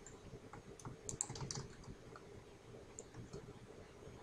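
Typing on a computer keyboard while entering spreadsheet data: a quiet, soft patter of key clicks in uneven bursts, clustered early and again near the end, with no talking.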